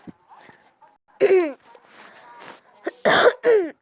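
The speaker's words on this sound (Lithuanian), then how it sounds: "atleiskit biškį, kosėjau" A person coughs and clears their throat indoors, a few soft rasps followed by two loud, harsh bursts close to the microphone, with breathy vocal noise between them.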